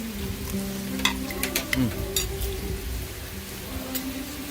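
Steady sizzling hiss of hot sisig on a plate, with occasional sharp clinks and scraping sounds over it, no talking.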